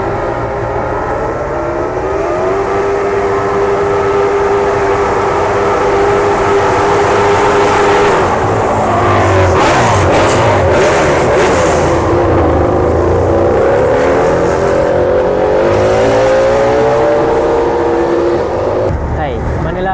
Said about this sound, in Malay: 2 biji motor dah lalu ni